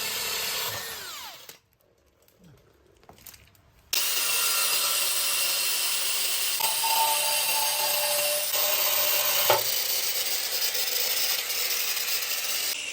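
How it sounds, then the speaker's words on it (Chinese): A 35 mm hole saw cuts into a deep metal pipe with a steady, continuous grinding whine that runs unbroken for several seconds after a short silent gap. "这是一个35的开孔器"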